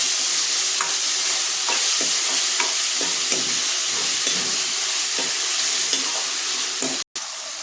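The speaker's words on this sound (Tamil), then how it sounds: "தக்காளி நல்லா வதங்கட்டும்." Steady, dense sizzling and crackling of tomatoes sautéing in a hot pan for Chettinad-style chicken curry, continuous throughout, with a brief cut near the end.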